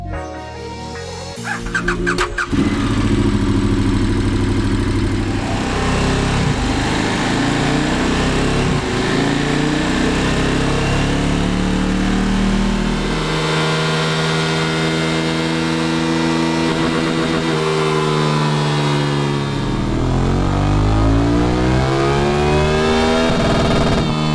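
KTM 1290 Super Adventure Euro 5 motorcycle engine starting and running loud and close, holding a steady drone with rising and falling revs and droning harmonics throughout.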